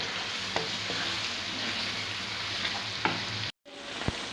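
Chicken sizzles steadily in a hot pan for a daal mash chicken dish, with a spoon occasionally scraping and clinking through it. The frying hiss drops out briefly near the end, then resumes.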